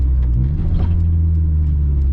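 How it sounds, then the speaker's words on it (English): Steady low drone from a Honda D16 four-cylinder breathing through a Vibrant exhaust, held near and loud with a slight rise in engine pitch early on, no voices present. "Vibrant stuff turns our cars, Hondas, our little 4-cylinders, from bees in a can to like smooth horns"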